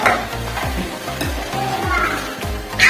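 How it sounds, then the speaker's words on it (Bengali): Beef sautéing in a pan sizzles loudly and close, with repeated stirring strokes and scrapes in a steady rhythm over a constant frying hiss. "এমনি মাংসটা কষাই লইবেন"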